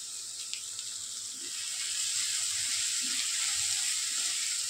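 Mixed sprouts usal sizzles in a hot pan as it is sautéed, a steady, close frying hiss that holds evenly throughout with no voices.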